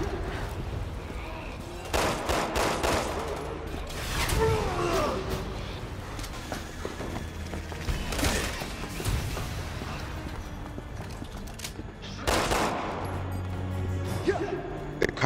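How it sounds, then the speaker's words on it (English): Rocket launchers fire in Resident Evil 6 as repeated heavy blasts and crashing booms, with strong bursts roughly every few seconds over a dense, noisy game soundscape. "There's guys up above just shooting rocket launchers."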